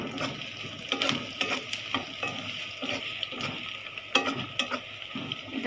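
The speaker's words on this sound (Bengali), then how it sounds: "এখানে রসুন, পেঁয়াজ আর কাঁচামরিচ আমি একসাথে একটু করে নরম করে নিব।" Garlic, onion and green chilli softening together in a pan with oil, giving a soft sizzle broken by repeated scrapes and stirs of a spoon, close and fairly quiet, with no talk.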